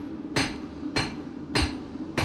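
A blacksmith's cold steel hammer strikes hot steel at a demonstration forge, giving four evenly spaced, sharp ringing blows, loud and close, with a low background hum between them.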